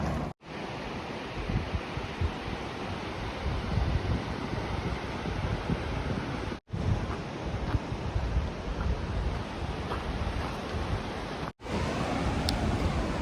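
Ocean surf rolls in at Myers Beach North on the Oregon coast, a broad, continuous roar mixed with wind buffeting the microphone, with a few brief dropouts and no voices.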